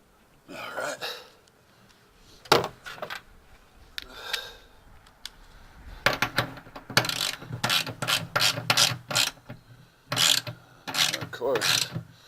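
A ratchet tightens motor mount bolts on an SRT-4, in repeated bursts of close, crisp clicking separated by short pauses, with little talk.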